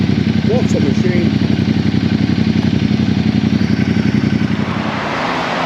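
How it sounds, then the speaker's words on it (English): Ducati Multistrada 1260 motorcycle engine revved hard at a used bike shop in Bangkok, a loud, steady, throbbing roar held for several seconds and easing slightly at the end, with people talking over it. "The guys just put that on full whack for us. Big 1260 Multistrada engine."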